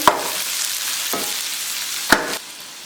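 Tomato and dry red chillies sizzle in hot oil for a goat curry masala, a steady crackling fry broken by a few sharp stirring scrapes.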